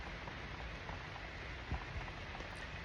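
Steady rain falls as an even, dense hiss with no breaks, fairly soft and constant throughout, with a faint low thump or two underneath.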